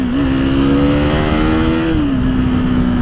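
A KTM Duke 390 single-cylinder engine is held at full throttle against the rev limiter, a loud steady high-pitched drone that sags slightly as it drops off, heard close and alone.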